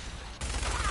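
Gunfire in the video game Fallout 4, a dense burst of shots that starts midway and keeps going loud and steady, with faint voices from the game mixed in.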